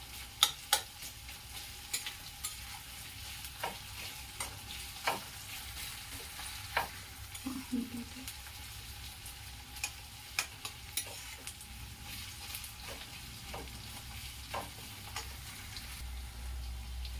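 Onions cook in a pan with a soft, steady sizzle. Stirring and pressing with a ladle make frequent scrapes and taps in an irregular rhythm, heard close and alone.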